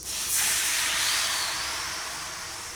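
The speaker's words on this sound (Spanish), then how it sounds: "Ya tomó calor la olla, le agregaré un poco de aceite de oliva y aquí sofreímos la salsa de un solo golpe" Poblano salsa hits hot olive oil in a pot all at once, setting off a loud, steady sizzling hiss that swells quickly and then eases slightly while holding on.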